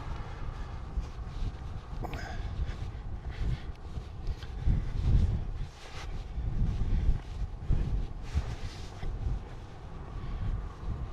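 Wind blows outdoors on a warm day during a Super B trucking trip, a low rumbling gusty roar buffeting the microphone, rising and falling in loudness with no one talking.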